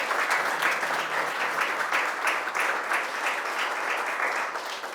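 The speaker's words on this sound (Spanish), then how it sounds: "Dele palmas el que sí lo crea" A church congregation claps together during a Spanish-language sermon, dense sustained applause filling the whole stretch at an even, fairly loud level.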